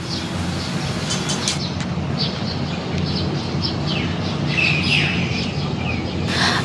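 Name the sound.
birds chirping in the morning at a seaside hotel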